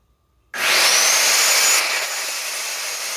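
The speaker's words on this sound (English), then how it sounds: "Now I just have to cut in half and sand it" A power saw cuts a piece of pallet wood in half, starting abruptly and holding a loud, steady high whine and rasp through the board, the pitch dropping slightly as the blade bites deeper, no talk.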